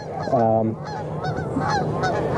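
Geese honk loudly and close by in a burst of stacked, nasal calls, with outdoor background noise continuing afterward.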